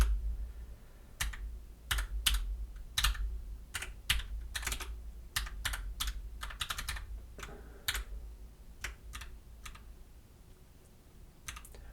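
Computer keyboard keys clack in quick irregular bursts while code is edited in Vim, the close, crisp taps separated by brief pauses over a quiet background.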